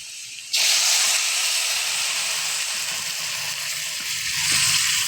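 Vegetables for a curry of home-grown data shak (amaranth stems) with bean seeds hit a hot pan, setting off a sudden loud, steady hiss that runs continuously to the end without fading.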